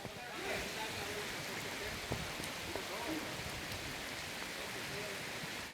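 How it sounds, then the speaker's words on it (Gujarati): Steady rain falls on Savarkundla and nearby villages in Gujarat during the monsoon, an even, hissing wash that stays constant throughout, with no voices and only a few faint drips standing out. "સાવરકુંડલા અને આસપાસના ગામડાઓમાં વરસાદ."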